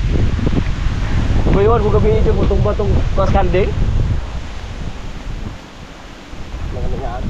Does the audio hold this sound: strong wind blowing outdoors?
yes